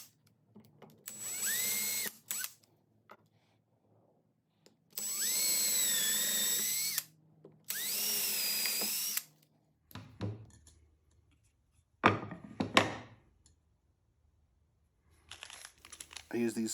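A power drill bores holes through the base of a homemade glass candy jar in three long, loud, steady bursts. Each burst ends abruptly. Brief crinkling and handling noises follow.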